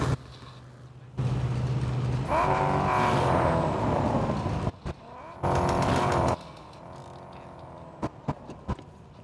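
A car's engine and exhaust revving in the Car Parking Multiplayer mobile game, with loud bursts of throttle that rise and cut off abruptly between quieter idling stretches, followed by a few short sharp blips.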